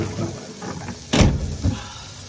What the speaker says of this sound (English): I had to shut the door